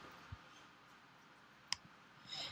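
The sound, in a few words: mouse click selecting new brush in the brushes panel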